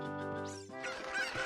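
A brief, harsh honking squawk from a chicken in the video game Ocarina of Time, sounding like a single loud bird call lasting just over a second.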